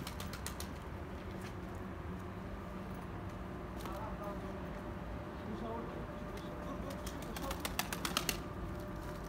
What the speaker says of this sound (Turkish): Arkadaşlar kaçak güvercin yine bir yerden fırladı çıktı geldi